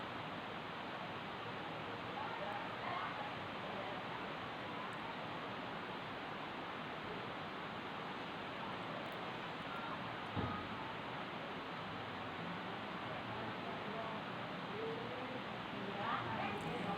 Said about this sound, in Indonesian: orang lagi hujan deras kayak gini, hujannya campur air,